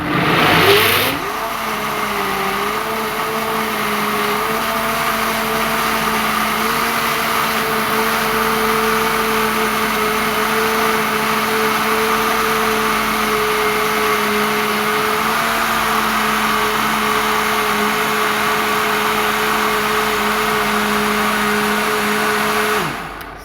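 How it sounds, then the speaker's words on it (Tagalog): Kitchen blender puréeing chopped vegetables with lemon juice into soup, a loud steady motor whir that runs unbroken for over twenty seconds, then cuts off. "So, blender na natin."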